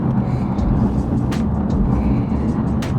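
A car rumbles past nearby, its low engine drone steady for a few seconds with brief higher hisses of tyres and wind, while a person talks faintly over it.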